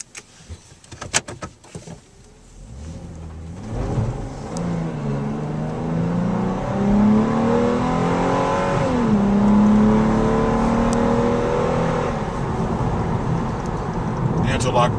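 A 2012 Hyundai Genesis Coupe pulls away after a few knocks and clicks, its engine rising steadily in pitch as it accelerates, easing at a shift, then pulling again at moderate volume from inside the cabin.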